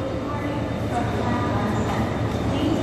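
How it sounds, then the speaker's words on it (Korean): A train rumbles through Seoul Station, a steady dense mechanical drone with low rolling noise and a faint high whine, continuous and fairly loud over the whole stretch. "기차가 출발합니다."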